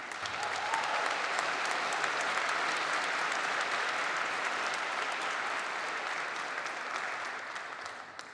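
Sustained applause from a large commencement audience at SUNY ESF in December 2021, honoring master's candidates; the dense clapping holds steady for several seconds before gradually thinning out.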